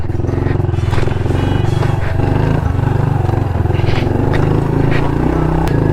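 A 110cc pit bike engine buzzes steadily and loudly up close while riding hard single track in Colorado, with a rapid even putter and clatter throughout.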